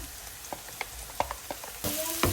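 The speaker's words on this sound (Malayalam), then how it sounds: "ഇഞ്ചി വെളുത്തുള്ളി പേസ്റ്റ് നമ്മളിനി വഴറ്റിക്കൊണ്ടിരിക്കുന്ന ഓണിയനിലേക്ക് ചേർക്കുകയാണ്." Ginger garlic paste added to onions frying in a pan on a stove, a close, steady sizzle with scattered pops and stirring scrapes that swell louder near the end, with no talk.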